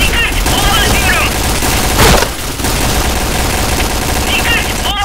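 Dense gunfire rattles continuously in Point Blank, with a thrown bomb's sharp burst near the middle, loud and close, while voices call out over the shooting.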